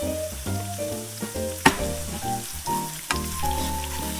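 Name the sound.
stir-frying in olive oil over low heat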